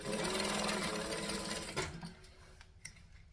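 A domestic sewing machine chain-sewing a fabric bag runs in a steady, fast, close mechanical whir, then stops abruptly, leaving a few light clicks and handling noises.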